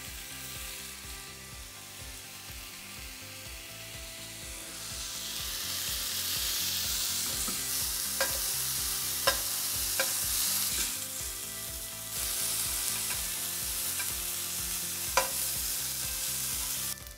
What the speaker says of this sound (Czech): A na rozpálenou pánev si hodím slaninu.